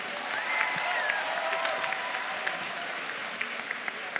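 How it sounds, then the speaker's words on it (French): An audience at a youtubers' conference at a Toulouse game show claps steadily and fairly loudly, a dense crowd patter with a few sharper individual claps and faint voices underneath. "applaudissements pour tous"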